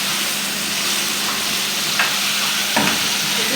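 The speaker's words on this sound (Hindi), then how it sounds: "बस अब मैं इसे स्टर करती हूँ" Chicken jalfrezi with dry spices stirred in a pan over a medium flame: a loud, steady sizzle of frying throughout, with a couple of brief scraping strokes of the utensil near the end, close and without talk.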